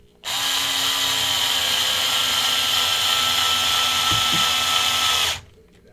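A power driver drives screws into a 1/10 scale RC race car, giving one continuous high-pitched whir of about five seconds, close and loud, that starts abruptly and cuts off cleanly.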